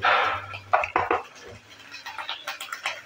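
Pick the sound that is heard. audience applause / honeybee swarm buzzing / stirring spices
stirring spices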